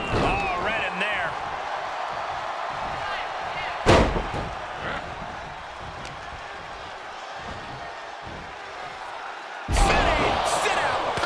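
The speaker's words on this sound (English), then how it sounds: "Sit down, power bomb." A wrestling power bomb by Umaga on R-Truth on Raw: two loud, sharp slams onto the ring mat several seconds apart, amid crowd noise and commentary talk.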